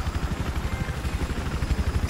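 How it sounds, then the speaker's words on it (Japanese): A friendly helicopter in the video game Battlefield 4 gives off a rapid, rhythmic rotor chop over a low engine drone, close and steady for a couple of seconds. "味方のヘリで置かせてもらおう。"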